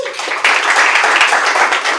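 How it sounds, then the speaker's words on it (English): A stand-up comedy audience bursts into loud, dense applause, many hands clapping together in a steady, enthusiastic wash of sound. "A huge round of applause for this"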